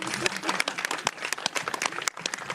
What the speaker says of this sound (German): und da würde ich um einen Applaus bitten.